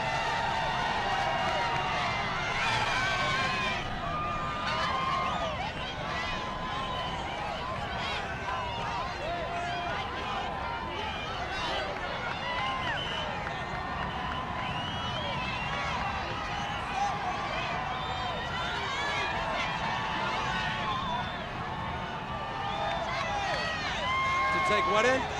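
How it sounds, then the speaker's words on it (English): A large outdoor crowd at the Washington Redskins Super Bowl victory parade, a continuous hubbub of cheering and shouting fans with a reporter's voice talking over the noise throughout. "The crowd is amazing."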